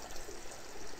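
A character urinating in Streamer Life Simulator, heard as a brief, faint, steady stream of liquid splashing, with no talking over it.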